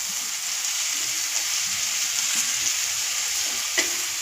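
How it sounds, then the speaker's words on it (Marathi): Spring onion greens sautéing in hot oil for a gram-flour onion-greens stir-fry, a steady close sizzle running throughout with faint stirring scrapes and a brief louder clink near the end. "आता ह्याच्यामध्ये मी कांद्याची पात घालणार आहे आणि ती छान तेलामध्ये वाफवून म्हणजे चांगली शिजवून घेणार आहे"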